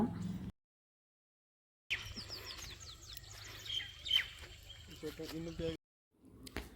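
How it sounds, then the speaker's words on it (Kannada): Morning birds chirp and tweet in quick, scattered calls, moderately close, with a brief silent gap before and a steady low hum underneath. "ಬೆಳಗ್ಗೆ ಎದ್ದ ತಕ್ಷಣ ಈ ಹಕ್ಕಿಗಳು ಚಿಲಿಪಿಲಿ ಅನ್ನೋ ಸೌಂಡ್ ಏನೋ ಒಂಥರ ಚೆನ್ನಾಗಿರುತ್ತೆ"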